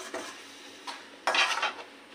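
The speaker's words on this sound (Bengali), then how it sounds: "এইভাবে একটু নাড়াচাড়া দিয়ে এটা অল্প সময়ের মধ্যে করে নেবো" A spatula scrapes and knocks against a wok while grated coconut and sugar are stirred, giving three short metallic strokes, the last loudest, close up and without speech.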